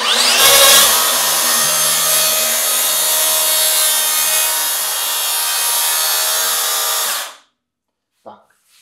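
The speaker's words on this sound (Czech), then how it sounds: "položím si na něj poradnou pilu a nastavím si správnou hloubku řezu" Makita DSP600Z plunge saw cutting through wood with a loud, steady, high-pitched whine and rasp that holds for about seven seconds, then stops abruptly, followed by a couple of faint handling knocks.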